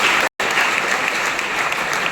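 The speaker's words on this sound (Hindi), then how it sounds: "बहुत ताली बजाइए।" Sustained applause from a group of children at a school morning assembly, dense and steady clapping throughout apart from a brief gap near the start.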